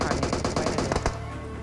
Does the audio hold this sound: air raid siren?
no